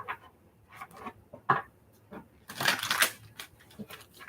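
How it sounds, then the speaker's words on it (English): Tarot cards being shuffled by hand in quiet short bursts of papery riffling and tapping, close and soft, with brief pauses between the bursts. "All right, one more shuffle."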